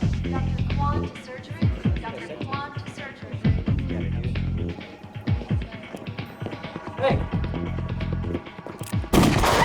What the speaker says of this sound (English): Shots fired upstairs.